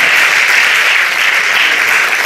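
Loud, dense audience applause of encouragement in a lecture hall, many hands clapping in a continuous, steady roar close by.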